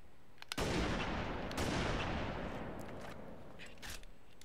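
A single loud sniper shot in Halo Reach booms with a long echoing tail, followed by faint clicks and a smaller report.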